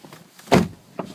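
A 2011 Chevrolet Corvette C6 Grand Sport door shuts with a single muffled thud, close by, followed by faint mechanical clicks.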